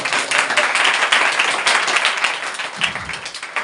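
A church congregation at a Sunday service claps together, a dense, loud burst of applause that carries on for a few seconds and gradually thins out.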